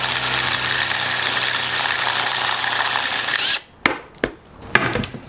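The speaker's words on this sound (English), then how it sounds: "we're just going to whiz off this clutch nut." A power tool spins off the clutch nut on a Rotax Senior Max 125 kart engine with a loud, steady high-pitched whir, then stops, followed by a few sharp metallic clicks and knocks.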